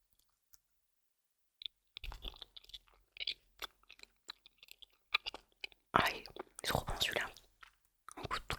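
Close, quiet chewing and crunching of Halloween candy with soft mouth clicks and bites, building to louder wet crunching in the later seconds, recorded intimately.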